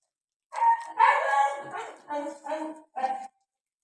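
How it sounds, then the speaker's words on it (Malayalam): Close by in a home kitchen, a dog lets out a run of four or five yelping, whining barks in uneven bursts, with silence before and after. "ആ ഡോഗിൻ്റെ സൗണ്ടാണ് നിങ്ങൾ കേൾക്കുന്നത്"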